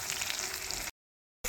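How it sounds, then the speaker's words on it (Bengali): Chopped onion hitting hot oil with whole cumin seeds in a pan gives a bright, steady sizzle for about a second, then cuts to silence before resuming briefly, with no talk. "এবারে আমি কুচানো পেঁয়াজটা ছেড়ে দিচ্ছি"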